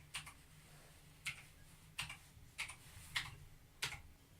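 Typing on a computer keyboard while filling in an online tax information form, heard as six sharp separate keystrokes spaced irregularly over a faint steady background hum.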